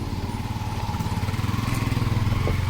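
A motorcycle engine runs with a steady pulsing putter that grows louder toward the end, as if drawing nearer, amid outdoor ambience at a Zambales resort, with no talking.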